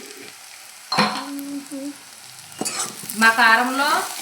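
Curry ingredients frying in a pan with chilli masala powder, a stirring scrape and sizzle in short bursts near the mic, with brief talk over part of it.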